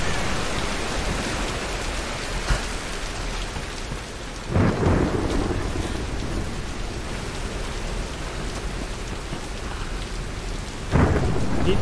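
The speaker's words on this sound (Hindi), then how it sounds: "तूफान चल रहा है वैसे" Thunderstorm with steady heavy rain in the video game Tomb Raider, a constant wash of rainfall broken by two sharp, loud thunder cracks and rumbles, with no talking.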